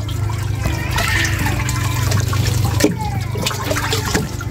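Liquid organic fertilizer made from fermented Jakaba and decomposer is poured out to water plants, giving a steady, close splashing gush of liquid throughout with no voices.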